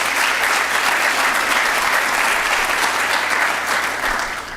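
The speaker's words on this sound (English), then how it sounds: "let's give them a round of applause for their work" Sustained audience applause at a county government address, a dense wash of many hands clapping in a hall, steady and loud before tapering off at the end.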